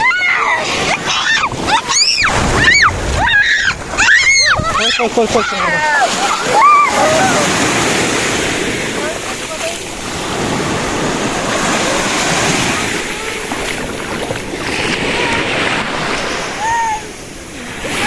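Mediterranean sea waves wash and splash on the Turkish coast with heavy wind noise buffeting the microphone; excited children's voices and shrieks ring out over the surf early, then steady rushing water and wind continue.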